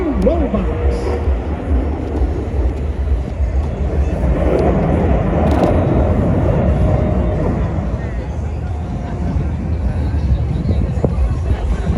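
Red Arrows jets flying the Rollbacks manoeuvre at the 2025 Ayr air show, a steady loud roar of jet engines that swells slightly mid-way, with a commentator talking throughout.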